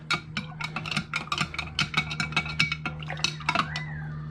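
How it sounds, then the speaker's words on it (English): Homemade lemonade with sugar syrup being stirred in a jug, a spoon clinking against the sides in a quick run of repeated taps and scrapes, close and alone with no talk. "at this point, you do need to give it a little bit of a stir"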